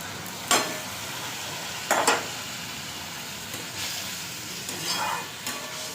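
Ground spices sizzle in a pan after a splash of water, a soft continuous frying hiss broken by a few brief scraping stirs, with no talking.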